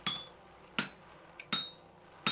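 Four sharp metallic hammer strikes with a ringing clink in the video game Vintage Story, evenly spaced about a second apart, close and clear over near silence.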